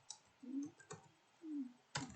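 Computer keyboard typing at close range, a few sparse quiet clicks and taps with short pauses between them in an otherwise quiet room.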